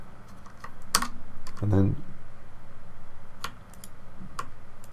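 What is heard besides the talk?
computer keyboard keys pressed for Blender shortcuts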